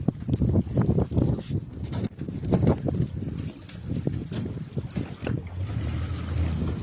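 Industrial fishing launch on the upper pool of the Dnipro reservoir, its motor and water slap rumbling steadily with wind buffeting the microphone, a choppy, continuous low-heavy roar close by.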